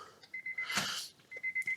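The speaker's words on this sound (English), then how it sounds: "pull the keys out because it does like a weird beeping thing" Key-in-ignition warning chime in a supercharged Honda Civic Type R, a steady run of quick high electronic beeps, briefly covered by a rustling noise in the middle, then resuming; close inside the car cabin.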